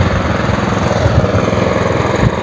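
A vibrating potato digger's engine runs steadily and loud close by in a field, a continuous rough rattling drone with no talk.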